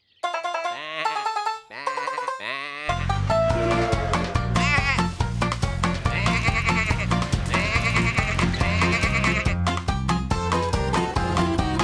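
Cartoon sheep from Tractor Tom bleat in a quick burst of wavering, high calls over the first few seconds, then bright, upbeat children's-show music takes over and runs loud to the end.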